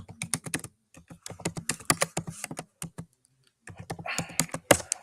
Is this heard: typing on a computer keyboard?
yes